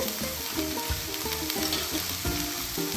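Onion fries in hot oil with ginger garlic paste and green chilies, giving a steady, close sizzle. Light stirring runs throughout the three seconds.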